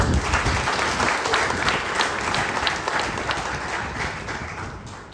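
A crowd at a Vaishya community charity gathering claps loudly and continuously, a dense close wall of applause that holds steady and tapers slightly at the end.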